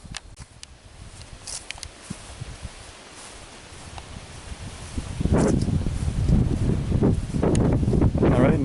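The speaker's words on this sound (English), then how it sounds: "Now, right now that wind is blowing straight from the shed, straight south" Wind blowing outdoors near a shed buffets the microphone, staying light at first and then turning into a loud, steady rumble over the second half, with some rustling mixed in.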